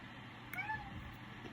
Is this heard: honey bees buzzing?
no